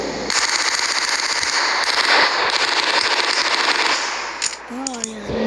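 A machine gun fires in a video game as a loud, rapid, sustained rattle of shots for about four seconds, then trails off into scattered pops with a brief voice at the end.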